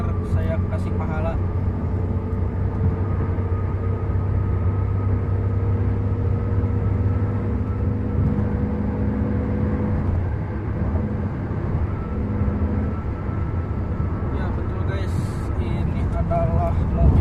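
Steady low cabin road noise from a 2019 Toyota All New Rush TRD Sportivo cruising on the Gempol–Pasuruan toll road, a continuous droning rumble with engine hum, and a voice talking over it throughout.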